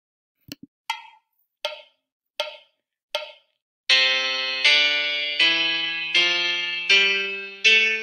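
Five short plucked notes on a piano app ring out one by one, then a string of fuller sustained chords follows in a steady, even rhythm.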